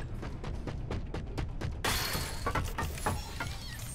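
Sudden smashing crash in the FNAF Security Breach video game, a broad burst of breaking noise about halfway through, cutting over rhythmic game sounds and continuing as a noisy wash.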